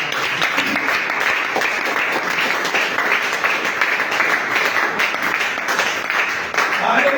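A church congregation applauds during a service, with dense, sustained clapping and crowd noise filling the whole stretch at an even, loud level.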